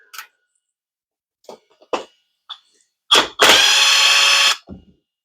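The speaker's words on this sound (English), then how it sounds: "Power tools for the win." A handheld power tool whirs in one loud sustained burst of about a second while backing screws out of an MJX H8P Bronco RC truck, after a few soft clicks and taps of handling parts.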